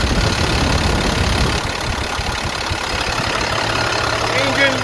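A 2007 International 4400 grapple truck engine idles steadily, a dense, continuous low rumble with a constant drone that holds level for the whole stretch and carries no talk over it.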